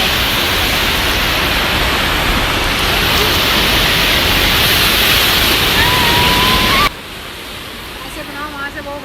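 Sea water washes at the beach in a loud, steady rush of surf that cuts off abruptly near the end, leaving softer water noise and faint voices.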